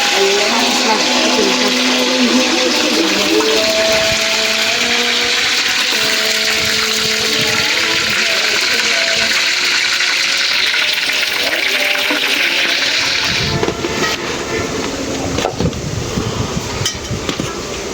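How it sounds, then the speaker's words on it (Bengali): Running water pours loudly and continuously as a wok is rinsed in a kitchen, the rush shifting to a rougher, clattering wash toward the end. "কড়াইটা একটু ওয়াশ করে ধুয়ে নিলাম।"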